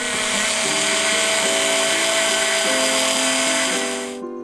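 A high-pitched power tool whines steadily while polishing a small cast piece, its pitch wavering as the load changes, then it cuts off abruptly near the end.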